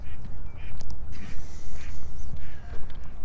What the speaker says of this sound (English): Geese are still standing around on the water